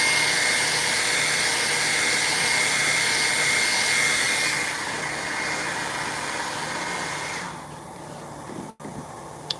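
A hair dryer blows steadily and loudly close by while drying paint on a prop cone, its roar dropping in pitch partway through before cutting off abruptly near the end.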